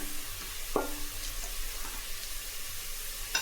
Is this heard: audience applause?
no